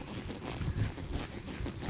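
A horse's hoofbeats clip-clop steadily on soft ground while barrel racing, close by and fairly loud, with a low rumble of movement underneath.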